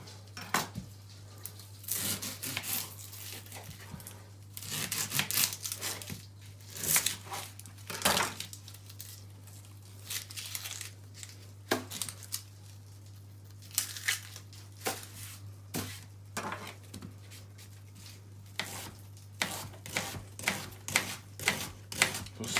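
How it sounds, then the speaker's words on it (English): A knife finely dicing an onion on a cutting board beside a stove where butter is melting, heard as a long run of quick, irregular close-up taps and cuts over a steady low hum, with no talking. "we're going to fine dice an onion"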